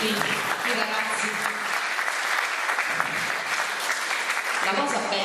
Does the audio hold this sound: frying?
no